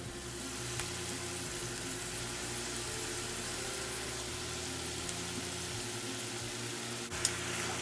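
Shredded meat seasoned with roasted garlic powder, seasoning salt and paprika frying in a pan, a steady dense sizzle with a few faint clicks, moderately quiet and close, with no talk.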